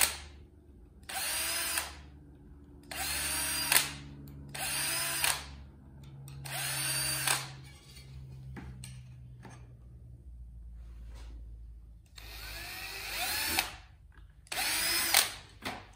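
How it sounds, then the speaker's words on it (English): A power drill drives a number 40 reamer through a row of numbered holes for an RV build, giving about seven loud, high whining bursts separated by short pauses. "So I just grabbed the number 40 reamer, and I'm gonna ream"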